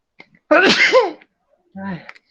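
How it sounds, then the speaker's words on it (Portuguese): A man gives one loud, close sneeze that rises to a sharp burst, then follows it with a brief spoken apology. "eu posso espirrar um pouco mais à vontade aqui"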